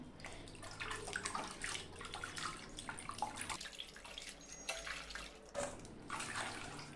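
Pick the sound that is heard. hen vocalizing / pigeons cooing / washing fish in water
washing fish in water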